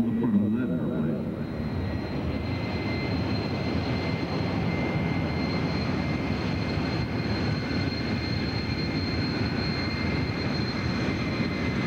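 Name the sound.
airplane taxiing down the taxiway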